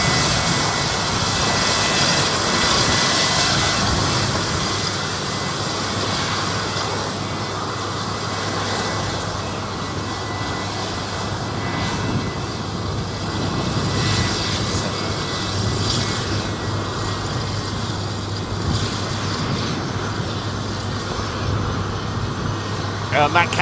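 Big radial aircraft engine at Seattle's Boeing Field, a loud, sustained droning roar that holds steady for over twenty seconds, with voices talking over it.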